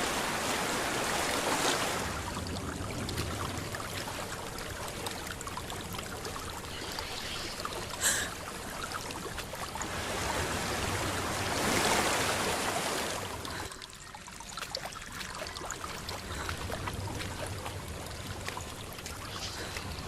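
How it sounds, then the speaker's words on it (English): A waterfall rushes in the game Hellblade: Senua's Sacrifice, a steady broad roar of falling water that swells and fades over time, with a faint click midway and no talk. "There's a waterfall."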